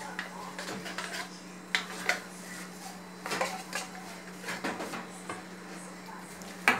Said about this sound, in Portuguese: ela está colocando a lata de leite condensado dentro da panela